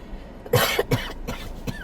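Two or three sharp, close coughs in quick succession, followed by a fainter throat-clearing cough, with no talking.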